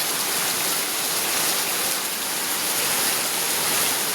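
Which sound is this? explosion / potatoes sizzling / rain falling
rain falling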